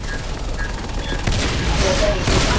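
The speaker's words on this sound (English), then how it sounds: "Four turrets, three turrets at max, are shooting at that guy." Automated turrets in the sci-fi shooter game Natural Selection 2 firing together at an attacker, a dense continuous fusillade of rapid gunfire under game noise, loud throughout.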